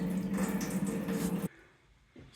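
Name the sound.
maple sap flowing from warming pan into main evaporator pan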